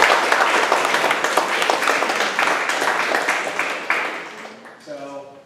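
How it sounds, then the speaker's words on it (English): A neighborhood association meeting audience applauds the visiting UC Davis guests, a dense burst of clapping that stays steady and then tapers off, with a voice starting to speak near the end. "Let's give the UC Davis folks a round of applause."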